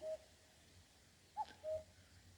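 A cuckoo calls from dense forest beside a hillside vegetable garden near a bamboo grove. A few short, clear tonal notes sound faint and distant against quiet surroundings.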